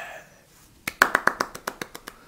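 Hand claps at a Urawa Red Diamonds football match in Japan: about ten sharp claps in quick, slightly slowing rhythm, starting loud and fading, close to the listener.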